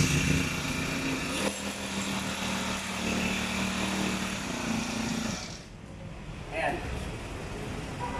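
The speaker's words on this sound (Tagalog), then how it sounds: "Testingin ko po itong inyong grass cutter." A Honda GX35 grass cutter fitted with a cultivator runs during a test, its small engine giving a loud, steady high buzz that drops away briefly, then picks up again.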